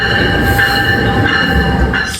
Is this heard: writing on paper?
no